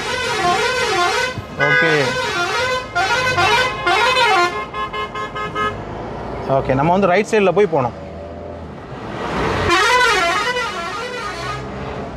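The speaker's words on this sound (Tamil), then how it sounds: "பஸ்ஸாக இருந்தாலும் சரி ட்ரக்காக இருந்தாலும் சரி என்ன பண்ணுவாங்கன்னா ஹார்ன் வந்து லாங் அடிச்சுக்கிட்டே வராங்கன்னா" Long, loud bus and truck horn blasts sound repeatedly on the Thimbam hairpin-bend mountain road, rising and falling in pitch, with someone speaking briefly between them and engine noise underneath.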